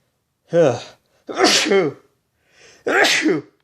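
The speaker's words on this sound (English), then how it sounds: "Nothing like a good sneeze in the middle of a video." Three loud sneezes in quick succession, close to the listener, each a sharp voiced burst, with no talking.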